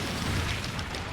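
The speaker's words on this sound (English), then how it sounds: "Big explosion." A big explosion in the video game Monster Hunter Generations Ultimate gives a dense, loud roaring rumble of noise that fills the whole short moment without any voice.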